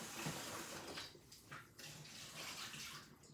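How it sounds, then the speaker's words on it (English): Tap water running into a container for soaking rice at home: a soft, continuous splashing stream, close by and quiet, with no talk over it. "this is the water that I want to put the rice inside"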